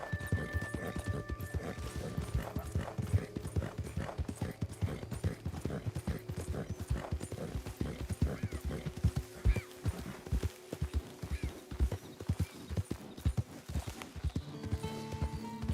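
Horse hooves in Red Dead Redemption 2, a continuous run of close, rhythmic clip-clop beats under a steady background drone, with a faint voice here and there.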